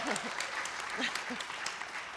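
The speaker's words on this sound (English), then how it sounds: "And yes, much applause." Audience applause at a community event in Blacksburg, Virginia: a dense, steady patter of many hands clapping at moderate level, with a few voices mixed in.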